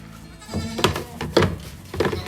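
A nervous nanny goat with a young kid bleats three times in close succession on a farm, loud and near, with no talk over the calls.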